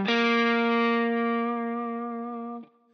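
Electric guitar through heavy distortion holds one long, bright sustained note that slowly fades, then shifts down with a short slide near the end, played alone with no voices.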